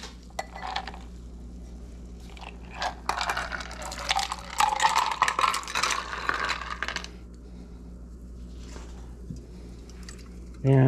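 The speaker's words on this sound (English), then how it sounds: "we're going to add a little bit of seltzer water on the top, about 1/4 inch" Seltzer water is poured over ice onto a Mai Tai–style cachaça cocktail in a glass, giving a soft fizzing, trickling pour that swells and then fades over several seconds, with a few light clinks around it.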